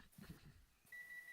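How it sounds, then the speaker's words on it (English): A microwave oven sounds a single steady electronic beep that begins partway through and holds to the end, moderately loud over faint room noise. "I heard something beep."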